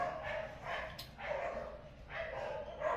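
Several dogs bark repeatedly in a steady rhythm, sounding somewhat distant and muffled in a home setting, with faint background noise underneath.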